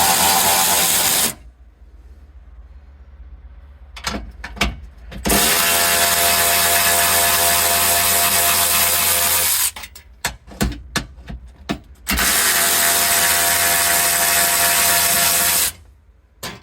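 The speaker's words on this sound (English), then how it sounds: "we will go ahead and start removing the bolts for the shield." Bolts being removed from the battery shield of a 2016 Hyundai Sonata Hybrid with a fast ratcheting tool, three long loud bursts of rapid ratchet clicking separated by short pauses with clinks and handling noises.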